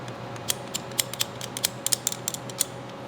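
A short rifle stock being slid onto the buffer tube and snugged up by hand, giving a quick series of sharp metallic clicks and ratcheting ticks, close and crisp over a low steady hum, with no talking.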